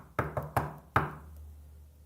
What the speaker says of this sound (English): That was a double knock.